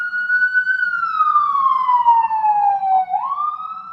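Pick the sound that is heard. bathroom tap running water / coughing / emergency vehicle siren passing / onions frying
emergency vehicle siren passing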